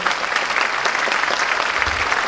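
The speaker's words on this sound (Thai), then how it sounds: "ขอเสียงปรบมือกับนักดนตรีของเราด้วยครับ" An audience applauds the live musicians at a university performance finale, a steady, even patter of many hands clapping throughout.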